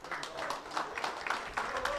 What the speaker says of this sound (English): You can tell when he wins a rack, there's just a bit more of a louder round of applause